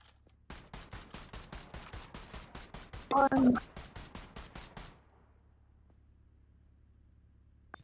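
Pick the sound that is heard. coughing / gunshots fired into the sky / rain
gunshots fired into the sky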